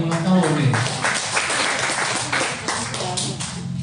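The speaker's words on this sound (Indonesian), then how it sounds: "tepuk tangan dong bagi ulang tahun nih" Audience applause breaks out for a birthday during a church service, steady clapping mixed with a voice talking over it.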